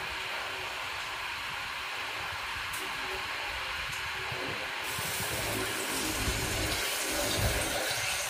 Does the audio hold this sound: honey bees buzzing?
no